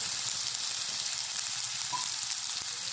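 Ginger garlic paste sizzles steadily in hot oil with mustard seeds, a loud, dense frying hiss that runs without a break, with a faint stir near the middle.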